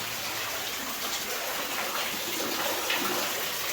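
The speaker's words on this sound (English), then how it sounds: "The water spout." Water spouts steadily from a small vein in an underground mine, a constant close gushing rush with no pauses.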